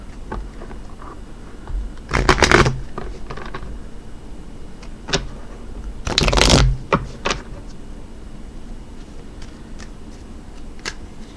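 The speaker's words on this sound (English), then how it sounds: "let's go ahead and shuffle up the kitty cat playing cards for you" Kitten-themed playing cards are riffled and shuffled in two quick bursts, with softer snaps and taps of cards between them in a quiet room.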